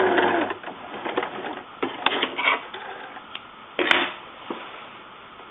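A sewing machine reverse-stitches a zip into a cushion, its mechanical whirring coming in short, uneven bursts with brief pauses and small clicks, fairly close and alone.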